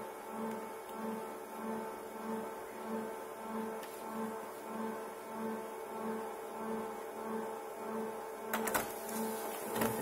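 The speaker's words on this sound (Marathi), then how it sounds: "प्रिंटर चालू झालं आहे ते बघा ते पेज त्याच्या आतमध्ये जात आहे" An office printer running while a page feeds through, giving a steady mechanical whir with evenly repeating low pulses and a short rattle near the end, with no speech.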